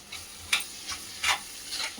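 Onions sautéing in a pan for shark puttu, with soft sizzling and several scraping stir strokes at irregular intervals, close and moderately loud, no voices.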